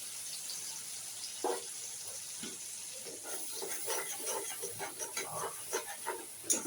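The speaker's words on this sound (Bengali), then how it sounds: "আর আমি এই জলটা এর মধ্যে দিয়ে দিলাম" Spiced masala water poured into frying masala for paneer butter masala, a soft steady sizzle and hiss with faint liquid stirring and light clinks, quiet and close.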